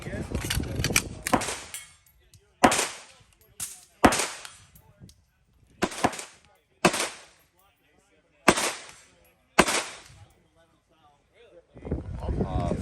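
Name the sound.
pistol shots at a shooting range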